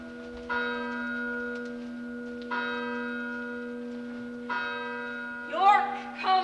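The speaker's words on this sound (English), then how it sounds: "Ring bells to entertain great England's lawful king." Church bells ring in three slow, resonant strikes that each hang with a long hum, with a voice speaking briefly near the end.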